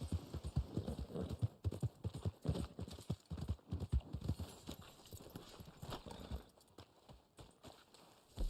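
Horse hooves clip-clop steadily in Red Dead Online, a brisk rhythmic gait of close, distinct thuds under a low background hum, carrying on throughout.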